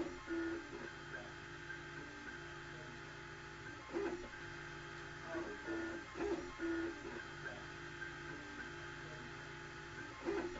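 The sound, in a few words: 3D printer printing Liberator gun parts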